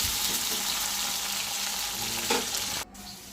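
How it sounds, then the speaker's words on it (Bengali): Potatoes fry in hot oil with black cumin in a kadai, a continuous close sizzle with light stirring clinks that drops off abruptly near the end, and nobody talks. "আলুটা অনেকটা লাল লাল করে ভেজে নেব"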